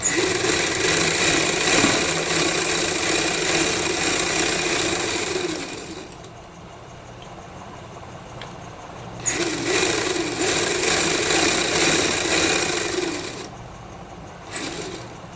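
A sewing machine stitches together the kali panels of a salwar in loud close bursts, running several seconds, pausing, then resuming twice more with short stops between runs.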